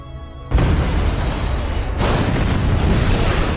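A loud explosion bursts in suddenly after a quiet moment, then a sustained roaring rumble with a second surge of blast noise.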